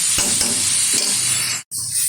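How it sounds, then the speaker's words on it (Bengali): Cabbage sizzles steadily in a pan after salt is added to draw out its water, with a few scraping stirs of a spatula, close and continuous, cut by a brief silent gap near the end. "হালকাভাবে কিন্তু বাঁধাকপিটা ভেজে নিয়েছি"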